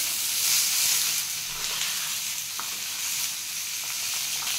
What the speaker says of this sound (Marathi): टोमॅटो परतून घेऊ आपण।